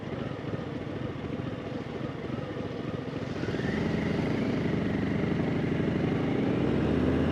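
A Harley-Davidson 120th Anniversary Fat Boy motorcycle rumbles along at steady speed, its low engine drone swelling louder about halfway through amid wind noise, with no voices.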